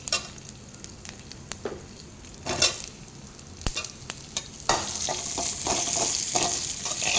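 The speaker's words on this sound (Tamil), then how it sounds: "கொஞ்சம் ஆனியன் ட்ரான்ஸ்லண்ட்டாக வர வரைக்கும் சாட் பண்ணி எடுத்துடலாங்க" Onion sautés with fennel, cumin, cinnamon, cardamom and cloves in a pan, giving a steady soft sizzle broken by scattered scraping stir strokes. The frying grows brighter and louder toward the end, with no talking.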